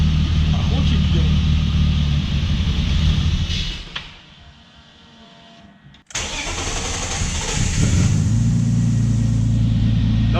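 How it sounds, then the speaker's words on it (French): A car engine whose mass airflow sensor has been unplugged, on a swapped car with a problem, starts and runs loudly, briefly cutting out near the middle before restarting and settling into a steady close idle. "Là on a démarré sans le débitmètre"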